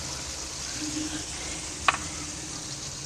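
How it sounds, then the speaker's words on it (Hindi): Peas (mattar) frying in a pot for pulao give a steady, soft sizzle throughout, with one brief sharp clink or scrape of a spoon near the middle and a faint murmur of voice. "इसी में अच्छी तरह से मटर को फ्राई करेंगे"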